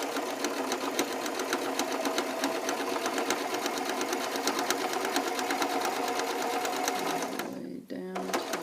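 A sewing machine runs steadily in a rapid, even chatter while stitching a French seam a quarter inch wide, close and loud, before stopping near the end with a brief backstitch burst; a person talks over it.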